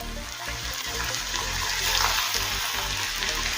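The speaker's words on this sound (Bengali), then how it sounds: "চিলি চিকেনের জন্য চিকেনের পিসগুলো ভেজে নেব।" Marinated chicken pieces fry in hot oil for chilli chicken, a steady loud hiss and bubbling sizzle that swells slightly and runs continuously without pause.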